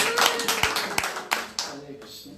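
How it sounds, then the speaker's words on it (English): Scattered hand claps from an audience at a religious gathering in South Africa, a sparse, uneven round of individual claps that thins out quickly, with some crowd murmur beneath. "Give them a round of applause."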